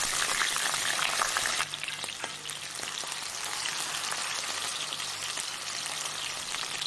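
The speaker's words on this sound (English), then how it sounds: "The oil is hot, and now we'll fry the potatoes." Potatoes frying in hot oil in a pot give off a steady, dense sizzle and crackle. It runs unbroken at a close, fairly loud level and eases slightly after the first moments.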